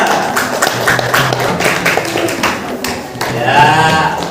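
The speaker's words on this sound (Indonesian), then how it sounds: "Ya, tepuk tangan untuk kelompok Liza" A classroom group of students applauds a student group, dense clapping running steadily throughout with no pause.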